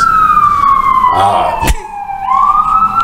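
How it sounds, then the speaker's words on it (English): Ambulance siren wailing loudly and steadily close by, its pitch sweeping down and then rising again through the whole stretch, with no talk over it. "Be quiet, ambulance."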